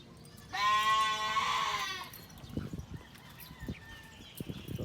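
A goat with a cough bleats once in a long, loud, wavering cry lasting over a second, close by in a farm pen, followed by faint rustling and shuffling.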